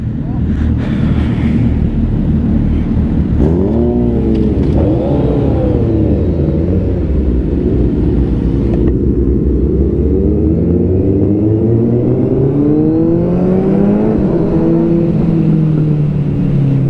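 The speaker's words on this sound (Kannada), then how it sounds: "Imagine 40-50 bikes with complete exhaust ಎಲ್ಲ ಗಾಡಿಗಳಿಗೂ ಹೆಂಗಿರಲ್ಲ ಸೌಂಡು, ಕ್ರೇಜಿ." Superbikes with full exhausts revving on a city street, a dense, loud roar with repeated rising and falling revs from several machines passing close, wind buffeting the microphone throughout.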